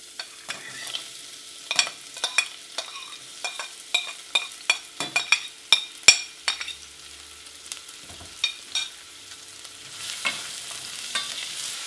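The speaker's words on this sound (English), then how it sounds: "now that oil is ready, I'm going to fry off my onions," Onions, garlic and dried chilies fry in hot oil for dal, with a soft continuous sizzle broken by frequent sharp clicks and scrapes of stirring. The sound is close and stays fairly quiet.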